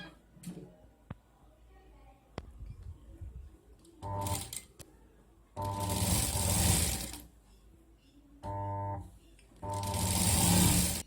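Short bursts of a sewing machine stitching a folded black fabric strip onto a handbag, several whirring runs separated by quieter pauses with small clicks and handling noises.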